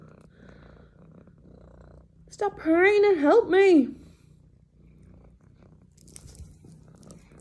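Pepper, a pet cat, purrs close to the mic in a brief rumbling burst in the middle, set against quiet room sound, with a person talking nearby.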